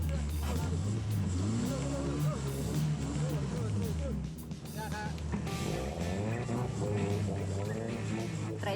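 A car's engine revs hard as it sits stuck in a river, the revving steady and loud with a brief dip partway through, while people talk over it.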